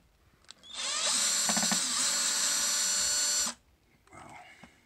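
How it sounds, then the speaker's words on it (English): Electric power drill backing screws out of the casing of a faulty, swollen Pylontech solar storage battery, one loud sustained whine of about three seconds with a short fainter burst after. "So I'm going to take this back off and see what these batteries look like. So yeah, I'm going to take these screws out."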